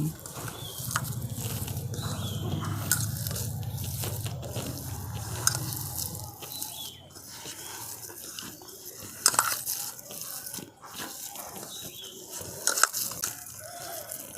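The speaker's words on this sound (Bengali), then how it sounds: "এবার আমি হাত দিয়ে মেখে নিচ্ছি" Semolina and boiled potato dough kneaded by hand in a home kitchen, giving soft squelching and slapping textures with a few sharper knocks, close and moderately quiet, with a low hum fading out partway through.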